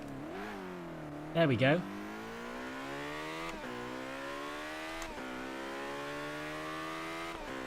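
A McLaren P1 in Forza Horizon 3 revs hard at high RPM, its engine whine climbing steadily with a few shift dips. A voice speaks briefly over the engine, and there is a short louder burst near the start.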